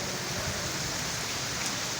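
Steady rain falls in Jhelum, a dense, even hiss of drops with no pauses, moderately quiet and with no voices.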